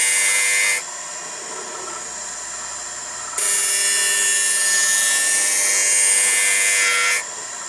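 A grinder sharpens a high carbon steel figure skate blade in two bright, hissing grinding passes, each lasting a few seconds, separated by a quieter motor hum.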